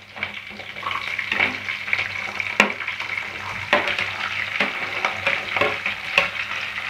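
Small onions and curry leaves frying in hot oil for a kara kulambu, with a steady close sizzle broken by scraping stir strokes and occasional sharper crackles.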